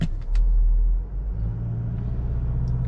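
A 2025 Kia Sorento with the 2.2 l diesel accelerating at full throttle, a loud low rumbling surge that swells early and then settles into a steady drone, heard from inside, no talk.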